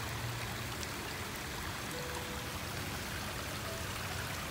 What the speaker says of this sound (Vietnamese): qua bên đây cho cả nhà nghe tiếng nước chảy róc rách ha